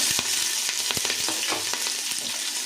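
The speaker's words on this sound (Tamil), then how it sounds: "வெங்காயத்து போடலாம் வெங்காயம் நல்லா வதங்கட்டும்" Onions fry in a pot for chicken biryani with a steady crackling sizzle, and a spoon strikes and scrapes the pan in repeated stirring knocks up close.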